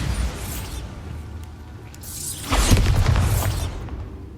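Bombarda blasting spell in Hogwarts Legacy, a soft first burst followed by a louder, brighter explosion with crackling debris midway through that fades out by the end.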